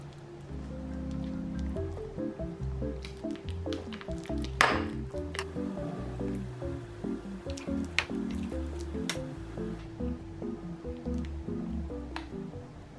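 Squishy filling turning into slime as borax activator is mixed in, producing steady wet squelching and sticky dripping sounds close up, continuous and fairly loud with no talking.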